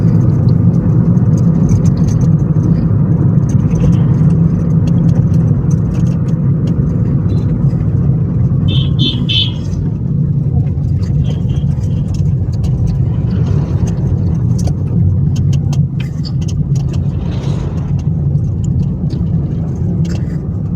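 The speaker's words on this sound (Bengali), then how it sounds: "গাড়ির স্পিড আছে এখন 60-এ" A car moving at about 60 km/h, a loud steady interior drone of engine and road rumble throughout, with faint rattles and no pauses.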